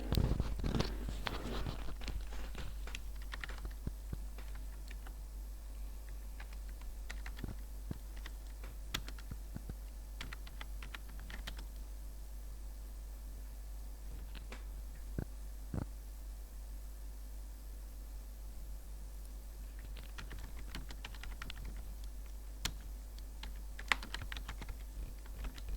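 A computer keyboard clatters under someone typing in a Word document, with scattered irregular bursts and single keystrokes spread across a long, quiet stretch, close up and without speech.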